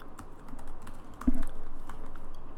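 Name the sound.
typing a password on a computer keyboard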